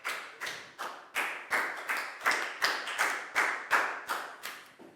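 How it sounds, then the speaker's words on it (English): Year 4 pupils in a classroom clapping for a classmate named Nadia, a short run of loud, evenly spaced claps close by, about a dozen in steady rhythm, with no talk. "High five for Nadia and a big round of applause"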